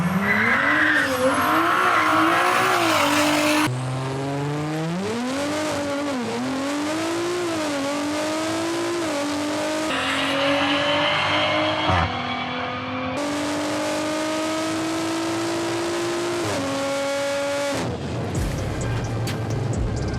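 An Audi B9 SQ5 launches down the drag strip at Sacramento Raceway, the engine roaring loud and close as it climbs through several gear changes with rising pitch, then cuts off abruptly.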